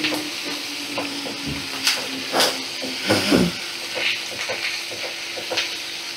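Large sliced onions frying in hot oil after potatoes, a steady hiss and sizzle with occasional stirring scrapes and clinks, fairly close and without speech.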